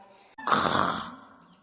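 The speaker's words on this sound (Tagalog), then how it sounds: "Dahil sa kabusugan, ang lobo ay nakatulog at agad humilik." A single long, loud snore from a sleeping wolf in a narrated children's story, a rough drawn-out snort that swells and then fades after a brief quiet gap.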